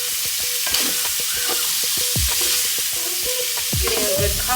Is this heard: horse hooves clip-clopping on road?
no